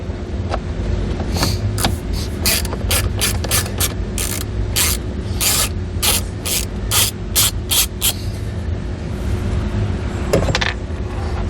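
A ratchet with a 5.5 mm socket backs bolts out on a 2020 Chevrolet during cabin air filter setup: rapid, close, crisp clicking in repeated bursts over a steady background hum, then quieter fiddling noises.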